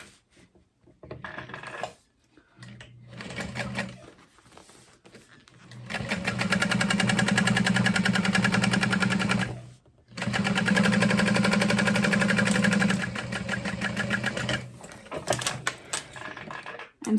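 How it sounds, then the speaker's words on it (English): A sewing machine top stitching a zipper on a tote bag, running in steady, fast whirring bursts with short stops between runs, close up and fairly loud. "we are going to top stitch this zipper in place"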